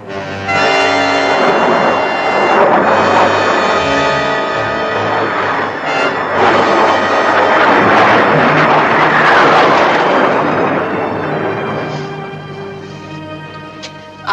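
A low-flying propeller aircraft roars in on a test-flight low approach, loud and close with a steady engine drone that swells and then slowly fades as it passes.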